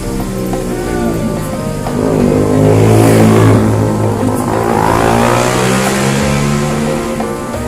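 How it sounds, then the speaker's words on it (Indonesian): A car engine revs loudly nearby while the car is being parked, pitch climbing and easing in smooth surges over several seconds, with no talk over it. "Bang Pancaniago di balik kemudi lagi proses parkir."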